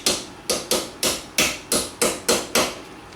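Hammer tapping an axle bearing into place on a Yamaha Banshee, about eight sharp metallic strikes at a steady, slightly quickening pace, close and loud with brief ringing decay after each hit.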